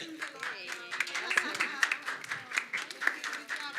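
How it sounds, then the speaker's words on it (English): A small workshop audience claps in scattered, uneven bursts at moderate distance, with people talking over and between the claps. "Let's make a clap."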